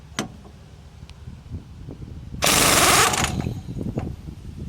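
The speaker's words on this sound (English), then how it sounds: "You're gonna probably want yourself a good old impact gun to rip this fucker off." Impact gun breaking loose the Pitman arm nut on a 1989 Jeep Cherokee's Saginaw steering box, one loud rattling hammering burst of under a second, followed by quieter knocks and handling sounds in a garage.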